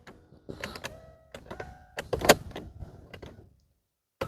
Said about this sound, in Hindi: ये है ड्राइवर की सीट जिसमें आपको मिल जाती है इलेक्ट्रिकल एडजस्टमेंट